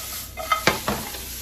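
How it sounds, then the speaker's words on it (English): Peppers and onions sautéed in a pan, a few quick scraping stirs and clinks of a utensil rising over a faint steady sizzle, close and fairly quiet. "we're just going to saute these peppers and onions."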